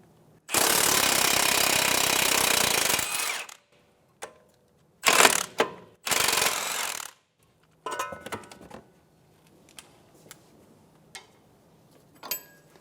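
Metal socket tools working strut-to-knuckle bolts on a 2012-2016 Subaru Impreza, a long loud buzzing run followed by several shorter bursts and scattered clicks and clanks, close up with no talk.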